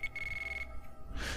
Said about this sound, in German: Leute, hier klingelt ein Telefon.